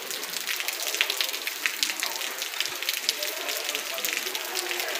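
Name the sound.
heavy rain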